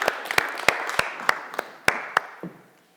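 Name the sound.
congregation applauding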